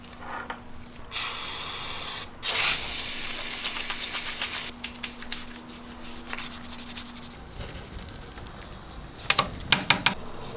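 Brake cleaner sprayed onto motorcycle chain grease in short hissing bursts, with a long steady spray early on and several quick spurts toward the end, heard alone.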